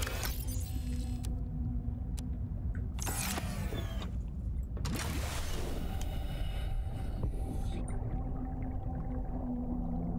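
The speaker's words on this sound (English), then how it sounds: "we have the sounds of the whales that soothe our nerves." Whales call in the underwater world of Subnautica: Below Zero, with faint drawn-out tones under a constant watery hum, broken by a few sharp mechanical clatters.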